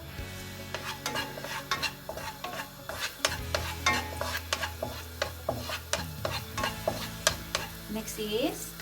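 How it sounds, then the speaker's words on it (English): Garlic frying in a pan for chicken tinola, soft sizzling under a regular series of sharp scraping knocks as a utensil stirs it against the pan. "we're gonna fry our"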